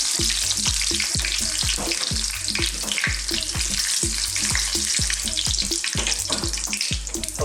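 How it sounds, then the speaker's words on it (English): Fresh curry leaves fry in hot oil for a mushroom and potato curry, giving a loud, continuous crackling sizzle with dense spitting pops throughout. "I've also got here some curry leaves, fresh curry leaves, which are going to make a real noise when I put them in"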